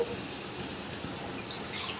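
Water being poured into rice in a pressure cooker, a soft continuous trickle and splash with faint drips, fairly quiet and heard on its own.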